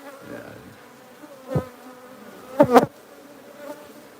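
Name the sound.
bees buzzing around wild hive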